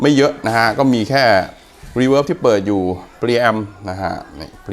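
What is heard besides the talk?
No everyday noise stands out behind the speech.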